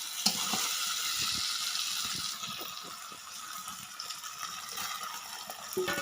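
Meat sizzles loudly in a hot pan as water is poured in, with a broad hissing wash up close and scattered clicks and bubbling beneath, and no one talking.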